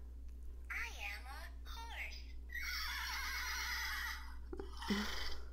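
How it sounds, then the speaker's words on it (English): A toy horse plays a recorded neigh, a loud, close whinny with trembling pitch, followed by a shorter snort-like sound, over a steady low hum. "she can hear the sound that a horse makes"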